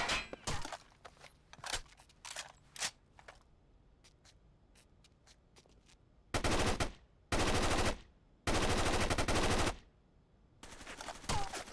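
Automatic rifle fire in Rainbow Six Vegas 2, with scattered single shots, then several long sustained bursts at close range, separated by short quiet gaps.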